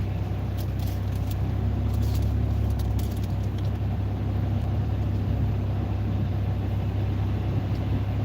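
Steady interior drone of a car cruising at about 45 mph on a road, a constant low engine and road rumble filling the cabin at even loudness throughout, with no talking.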